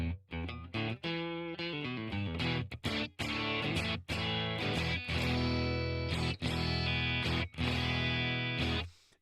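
Electric guitar run through a Revalver Matchless-style MS-30 amp simulation, strummed chords and picked notes ringing with a full, slightly driven tone, loud and steady with brief gaps between phrases.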